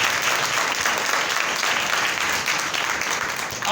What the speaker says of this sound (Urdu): زوردار تالیاں بجائیں مسیح کے لیے.